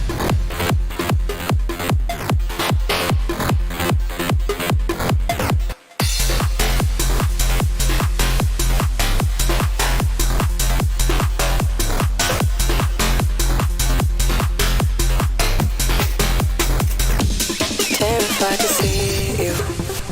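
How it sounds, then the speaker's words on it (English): Electronic music from a Dirty Waves M8 hardware tracker, a Game Boy LSDJ-style chiptune device, plays as loud steady beats with chippy bass and lead lines, a brief dropout near six seconds, then a denser noisy passage toward the end. "is the M8 tracker by Dirty Waves. It's a hardware tracker, emulates the style of the LSDJ tracker for the Nintendo Game Boy DMG-01."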